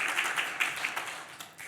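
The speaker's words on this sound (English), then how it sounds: "Give yourselves a huge round of applause as well." A small audience at an Auckland evening event claps briefly; quiet, fairly distant applause with scattered individual claps that thins out quickly.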